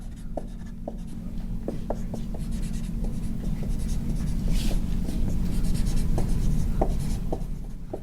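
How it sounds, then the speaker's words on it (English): A pen scratches out a momentum equation in quick, steady strokes with small taps between them, close and continuous over a low background hum. "So I'll write that out quickly."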